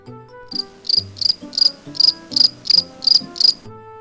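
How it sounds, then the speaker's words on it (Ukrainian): Steady cricket chirping, eight evenly spaced bright trills in a row, loud and close, with a soft low tone underneath. "Цвіркун цвірчить."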